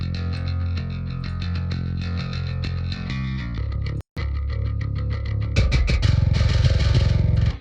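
Distorted bass guitar tone from a metal mix, with the distortion set higher in the frequency range and dialed way back, run through the same processing chain; a loud, sustained riff with a brief dropout near the middle, then fuller and brighter.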